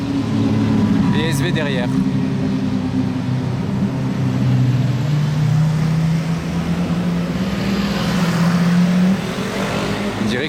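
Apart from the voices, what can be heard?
Lamborghini Aventador with Capristo exhaust driving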